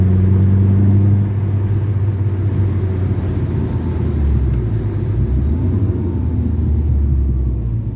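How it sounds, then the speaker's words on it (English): A 2004 Chrysler PT Cruiser Dream Cruiser Series 3 drives along a road, its engine a loud, steady low rumble with constant road and tyre noise heard from inside the cabin, uninterrupted and without talk. "This is such a fun little car to drive."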